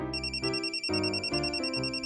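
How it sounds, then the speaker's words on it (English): A phone rings with a bright, repeating electronic ringtone melody, steady and moderately loud, playing alone without any voices. "Can you grab my phone for me so I can answer it?"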